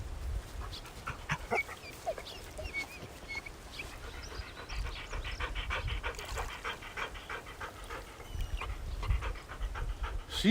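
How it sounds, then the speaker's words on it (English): A female dog pants steadily and close by, in quick breathy huffs, over a rainy outdoor backdrop during a fishing outing. "She really is one of the smartest dogs I've ever had."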